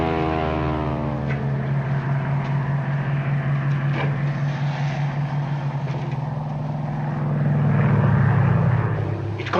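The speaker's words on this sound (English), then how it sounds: "It's the planes again." A propeller airplane drones overhead, a steady loud engine hum with a falling pitch as it passes, swelling louder near the end; no talk.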